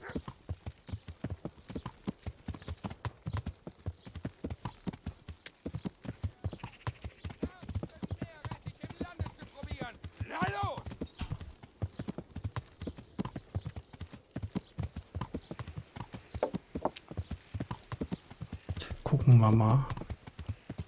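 Horse hooves clip-clop in a steady, rapid rhythm while riding in Kingdom Come: Deliverance, close and continuous, with a brief whinny near the end.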